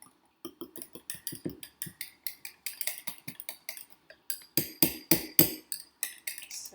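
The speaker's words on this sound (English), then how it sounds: "I'm going to whisk it all." Whisk rattling against a bowl while mixing poke bowl dressing, a rapid series of close, bright clinks and taps in bursts, growing louder and faster toward the end, with no talking.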